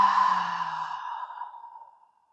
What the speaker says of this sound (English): One more deep breath together.